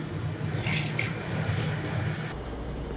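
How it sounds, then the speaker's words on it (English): Salted squash squeezed by hand to press out its water, a soft wet squish with dripping liquid, close and fairly quiet in a kitchen. "the squash has been well salted. I'm going to squeeze out all the water."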